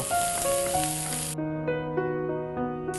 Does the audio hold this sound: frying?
yes